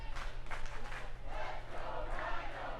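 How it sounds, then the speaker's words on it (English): A live crowd at a Cleveland All Pro Wrestling match roars and shouts in a steady, moderately loud wash of cheering voices, with a low hum underneath. "Crowd coming alive for Rhyno"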